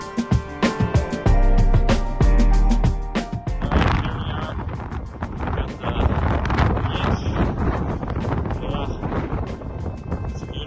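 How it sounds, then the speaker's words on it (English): Strong winter wind on Iceland's Snaefellsnes Peninsula roaring and buffeting loudly and continuously, with heavy gusts hitting hard at first, and a person speaking over it. "Super windy, but it's absolutely gorgeous."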